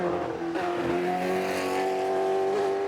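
A BRM 261 Grand Prix car driven by Richard Attwood roars up a hill climb, a loud, sustained high-revving engine note that rises in pitch as it shifts and accelerates close by.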